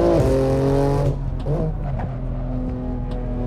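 A BMW M4 G82 Competition on the Nordschleife in Assetto Corsa, its engine loud and close, a high rev dropping sharply around a shift, then a steadier lower drone with brief blips.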